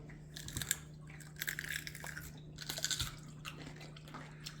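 Several crisp crunching bites into a firm, juicy hydroponically grown cucumber, with wet chewing between them, close up and no talking.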